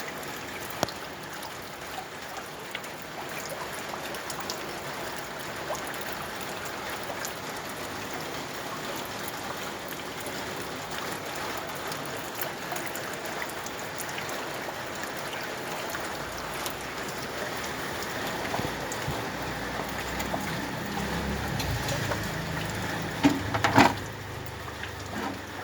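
Rain keeps pouring into a home rainwater collection setup, a steady hiss of falling drops and trickling water that grows slightly louder toward the end, with a few sharper splashes and no talking.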